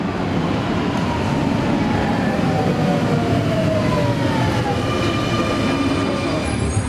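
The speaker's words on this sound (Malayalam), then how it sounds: "വെസ്റ്റ് റെയിൽവേ സ്റ്റേഷനിലേക്ക് ഒരു ട്രെയിൻ എത്തി." An underground metro train pulls into Vienna West station, a loud steady rumble of rolling wheels with rising and falling electric whines and faint squeals, with no voices over it.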